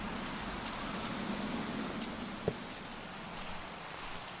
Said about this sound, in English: I wouldn't normally mind building in the rain, but it's a little difficult to hear